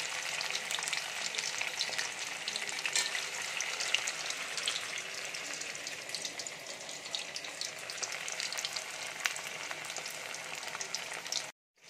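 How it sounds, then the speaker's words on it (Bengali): Paneer pieces frying in oil in a pan over a low gas flame, giving a steady, fairly loud crackling sizzle that runs without pause for the whole stretch and cuts off abruptly at the end, with no talking. "গ্যাসের ফ্লেমটা লো রেখে আমি সবগুলো পনির আস্তে আস্তে করে ভেজে নেব।"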